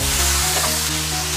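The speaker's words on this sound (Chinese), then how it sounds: "下猪肚，快速翻炒。" Pork tripe hits a generous amount of hot oil in a wok and is stir-fried fast over high heat, giving a loud, steady, close-up sizzle that fills the whole moment without any talk.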